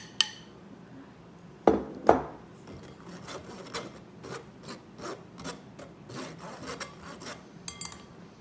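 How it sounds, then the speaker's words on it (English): Flour for banana bread sifted through a sieve into a big bowl, a steady run of soft scratchy rubbing taps after two sharp knocks near the start, close and fairly quiet. "take a big bowl and sieve our flour through it"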